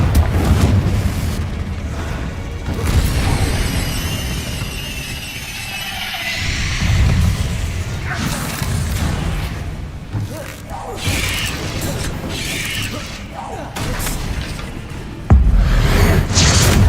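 In the Hogwarts Legacy video game, Confringo blasting spells go off in a dense mix of booming blasts, rumbling impacts and mechanical clatter that rises and falls over about seventeen seconds, with an abrupt loud hit near the end.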